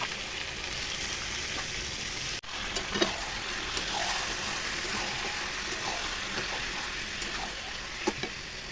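Chicken sizzles and fries steadily in hot oil with onion, whole spices and ginger-garlic paste, a dense continuous crackle broken by a brief gap and a few soft knocks of stirring.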